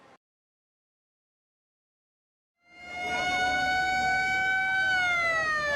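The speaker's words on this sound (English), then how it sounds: "An ambulance screeches up to one of the few remaining hospitals in Hodeidah" After a brief sound and a stretch of silence, a loud ambulance siren rises in and wails steadily, with a high, slightly wavering tone, as it arrives at a hospital in Hodeidah, Yemen.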